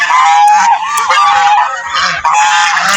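Domestic geese honk loudly and close by on a goose farm, with repeated overlapping calls filling the whole stretch and no talking.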